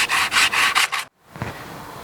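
Rhythmic back-and-forth strokes of sanding a repaired rotting wooden window frame, several quick rubs close up, then a brief pause and softer scraping, with no talking.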